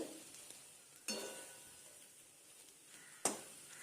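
Onions frying in a pan for a Bankura-style khosta bhaja, a soft steady sizzle running throughout with two sharp clatters of stirring or a lid.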